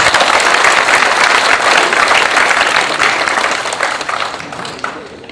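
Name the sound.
applause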